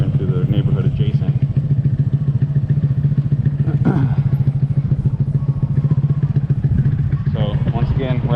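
A Honda Grom motorcycle rides through a quiet neighborhood, its small engine putting out a steady, close, pulsing drone, with a person talking over the engine noise.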